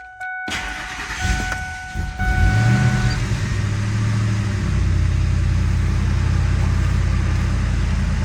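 A flooded 2001 Ford engine with a throttle position sensor fault (code P1121) cranks briefly, stumbles, then fires and revs before settling into a loud, steady idle; a few electronic chimes sound at the start.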